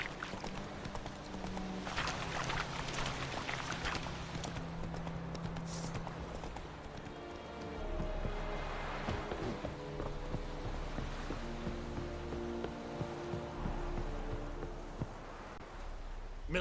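Horse hooves beat in a fast, steady clip-clop rhythm as a mount gallops across terrain in the video game The Witcher 3: Wild Hunt, with quiet ambient sound and occasional faint snorts.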